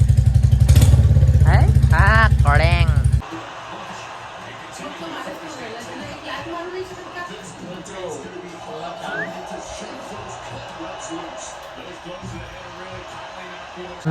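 A motorcycle engine blares loud and close for the first few seconds with a rough, revving roar, then cuts away to a quieter scene of indistinct voices and background chatter.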